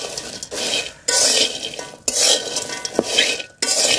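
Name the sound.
stirring cardamom and star anise frying in a pan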